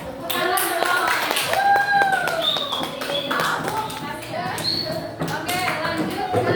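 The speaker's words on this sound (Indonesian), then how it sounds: "Beri tepuk tangan" Students at a school religious short course clap together in a rhythmic, fairly close burst, with an adult's and children's voices and a few whistling or squeaking tones running over the clapping.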